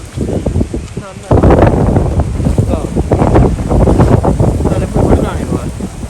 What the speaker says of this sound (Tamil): பயங்கர காத்தடிக்குதா